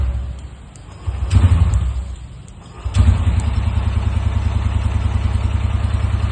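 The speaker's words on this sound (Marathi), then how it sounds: "क्लच दाबून स्टार्टर मारायचा." A Bajaj three-wheeler at a showroom is started with the clutch pressed and the starter engaged; the engine cranks and catches twice, settling into a steady, close, rumbling idle with no talk.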